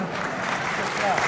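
Audience at a Guru Shishya gathering clapping hands steadily together, a dense continuous patter, with speech over it.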